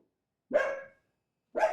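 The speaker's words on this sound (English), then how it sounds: "Dogs are barking like crazy." Dogs barking in two separate bursts, one longer bark followed after a pause by another, fairly loud and close against silence.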